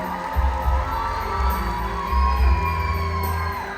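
Crowd applause and cheering for a contestant at the state-level Unduk Ngadau pageant of 2023: loud whoops and yells over a broad sustained roar, with booming bursts rising and falling, plus a steady musical drone underneath.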